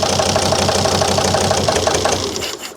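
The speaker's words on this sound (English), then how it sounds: "I'm just going to disconnect injector 2." A 2003 Volvo XC90 D5 diesel engine idles with injector 2 disconnected, misfiring, giving a loud, close, rough rhythmic clatter that fades slightly at the end.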